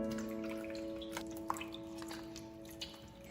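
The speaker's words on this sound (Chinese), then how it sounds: "香菇也已经泡发了，来把它洗去泥沙。" Soaked shiitake mushrooms being rinsed in water, with faint drips, soft squishing and small splashes over a steady background hum, fairly quiet throughout.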